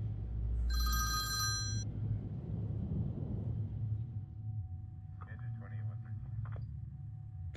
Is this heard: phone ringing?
yes